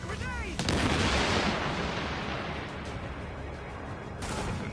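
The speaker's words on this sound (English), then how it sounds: "A grenade." A grenade explodes in The Division on PS4 with a sudden, sharp, loud blast, then a rumbling roar that slowly fades while faint gunfire-like crackle lingers.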